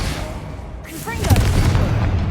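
After a short spoken word, the fiery Confringo spell from Hogwarts Legacy bursts into a loud booming explosion with a crackling tail, followed by lingering low rumble.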